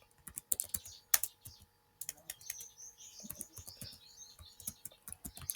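Fingers type on a computer keyboard, with quick irregular clicks and clacks, close and fairly quiet, coming in short bursts with brief pauses.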